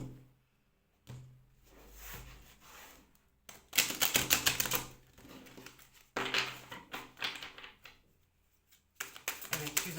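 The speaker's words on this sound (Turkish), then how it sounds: "Güzelce karıştıralım efendim kartlarımızı." A deck of tarot cards is shuffled close by in several bursts of rapid riffling and fluttering, with short quiet gaps between them and a voice speaking softly at times.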